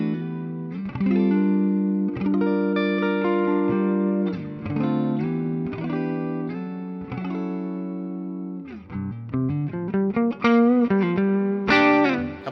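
An electric guitar with a P90 pickup played through distortion rings out in strummed chords and riffs, thick and sustained, with a faster run of notes and a bright final hit near the end.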